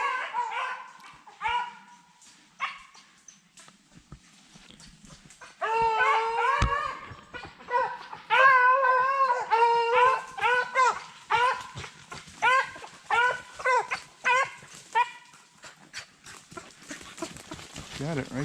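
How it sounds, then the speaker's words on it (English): Trailing hounds bay and bark in quick bursts as they run behind game, moderately close and growing more frequent, with someone speaking quietly at the start. "We'll get a look at the dogs coming through."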